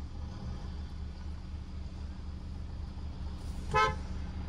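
A single short car horn toot near the end, over a steady low engine rumble, during a drag race between a Hyundai Verna and a Tata Safari 2.2.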